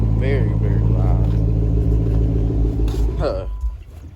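A car fitted with resonators and exhaust tips idles and rumbles with a heavy, loud low drone, the exhaust booming steadily for several seconds while someone talks over it.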